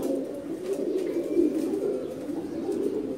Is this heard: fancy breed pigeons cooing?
yes